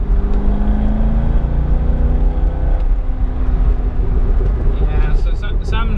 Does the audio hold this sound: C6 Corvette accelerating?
yes